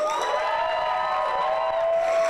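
Comedy club audience cheering and whooping for local comics, a dense sustained wall of crowd noise with shouts and applause, loud and close, no gaps.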